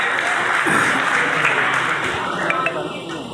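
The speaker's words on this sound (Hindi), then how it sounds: "जोरदार तालियों से स्वागत करेंगे" Crowd at a Delhi sanitation workers' mahapanchayat applauds loudly to welcome a police officer, a dense sustained clapping with a voice over a loudspeaker talking on top.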